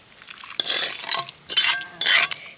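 A spoon stirs raw green mango pickle through warm oil in a pan, scraping and clinking in several close, distinct strokes with short pauses between them.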